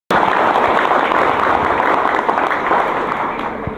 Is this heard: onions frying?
no